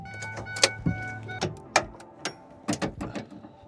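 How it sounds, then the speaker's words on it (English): A series of close mechanical clunks, clicks and latch sounds as the hood of a pickup truck with an LMM Duramax engine is released and lifted, with a faint whine in between. "Let me open up the hood of the truck."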